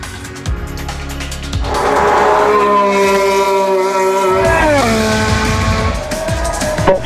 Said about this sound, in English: A full-on live pit stop.